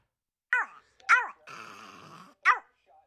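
A meme dog lets out a few sharp, close barks and yelps with a growling, whining stretch in between, loud against silence.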